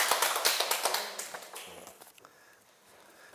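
An indoor audience applauds a performer, a dense burst of clapping loud at first and thinning into scattered claps before fading.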